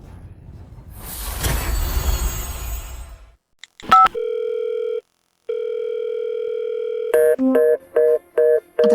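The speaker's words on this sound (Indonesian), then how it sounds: "Aku telepon dia sekarang." A telephone call being placed: a noise burst, then a few dial-pad tones, followed by a steady two-part ringing tone that pauses once and resumes, ending with a series of short repeated tone bursts. No one speaks.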